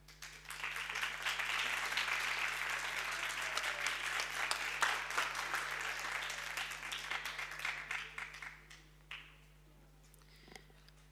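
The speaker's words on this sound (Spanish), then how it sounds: "pido un fuerte aplauso" An audience at a history and culture conference session in Marmolejo breaks into loud, sustained applause for about nine seconds, which then thins into scattered claps and fades out.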